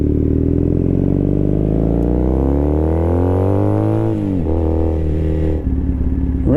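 A Triumph Thruxton motorcycle rides through the Ohio State University campus, its engine note climbing steadily through the gears, easing off, then pulling again, loud and close with no voices.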